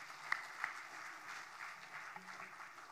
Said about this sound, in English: very loud round of applause, please